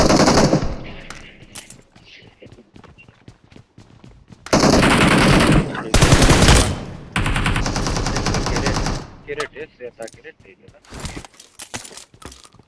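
Video-game gunfire with long, loud bursts of rapid automatic fire broken by shorter volleys and quieter gaps. A few softer sounds fall between the bursts.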